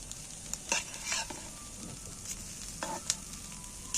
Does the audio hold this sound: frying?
yes